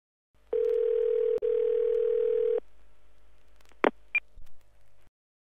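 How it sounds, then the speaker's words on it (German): A steady telephone line tone sounds for about two seconds before an automated phone information service, then two short electronic clicks or beeps follow, with a faint low rumble underneath. "Sie hören eine automatische Telefonauskunft."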